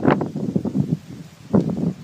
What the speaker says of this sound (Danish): jeg må undskylde, hvis det larmer lidt ved lydkvaliteten, fordi det blæser sindssygt meget